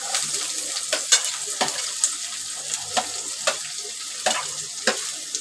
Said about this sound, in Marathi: कांदा मी हा चांगला भाजून घेते.